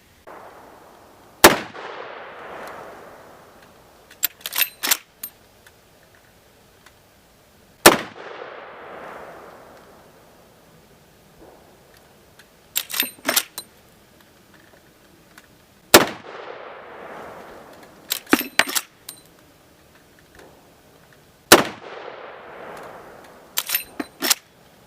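Sharp, loud reports from a Marlin Model 1895 Dark Series lever-action rifle in 45-70, fired one at a time with long pauses between them. Each report is followed by a few quick clattering clicks from the lever action being cycled. No one speaks.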